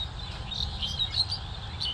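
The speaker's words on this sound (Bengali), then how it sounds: "প্রকৃতি পাখির কিচিরমিচির শব্দ" Birds chirp in short, high, scattered calls at a green spot in Dhaka, over a steady low rumble of distant traffic noise.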